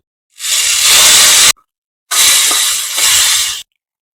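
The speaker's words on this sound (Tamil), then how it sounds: "நம்ம தாளிச்சதை பிட்லையில சேர்த்துக்கலாம்" Hot tempering poured into a pot of bitter gourd pitlai, two loud bursts of sizzling hiss close by, each about a second long with a short pause between, no talking.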